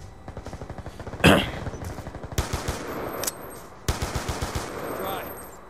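Rapid automatic gunfire from a video game weapon comes in several close, loud bursts with sharp individual cracks and short pauses between them.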